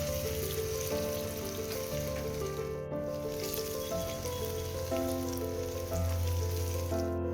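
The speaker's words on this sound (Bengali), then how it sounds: "কড়াইতে সর্ষের তেল গরম করে সেদ্ধ পেঁয়াজগুলো জল ছড়িয়ে এবার ভেজে দিচ্ছি" Onions, boiled first, sizzle steadily in hot mustard oil, a soft continuous crackle partly masked by background music.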